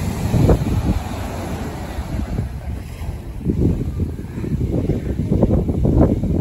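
Cool spring wind blows along the southern Atlantic coast, buffeting a nearby microphone in loud, low gusts that rise and fall unevenly throughout, with no voices.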